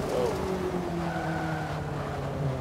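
An Ariel Atom fishtailing on the Nurburgring in Forza Motorsport 5, engine droning steadily while tires squeal in a sustained slide, with a voice talking over it.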